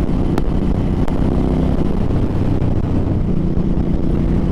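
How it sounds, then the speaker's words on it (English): Strong wind roars steadily over a motorcycle rider on a Suzuki M50 cruiser, a loud, constant broadband buffeting with low rumble and no pauses. "It's windy as heck outside today."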